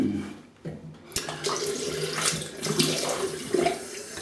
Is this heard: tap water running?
yes